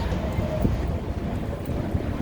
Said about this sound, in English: Okay, it's getting windy again.